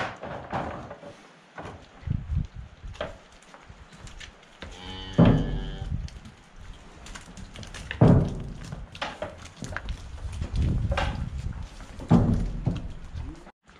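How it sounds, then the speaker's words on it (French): Cows mooing inside a cattle barn, several long low bellows spaced through the stretch, some close and loud, with hoof clatter and thumps between them. "Permettez-moi de vous lâcher les vaches."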